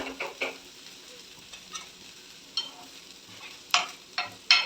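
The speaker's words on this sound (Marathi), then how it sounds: "हळूवार हाताने ढवळायचे आहेत" Field beans being stirred in a kadai after tempering, giving soft, intermittent scrapes and taps of a spoon against the pan over a faint, quiet sizzle.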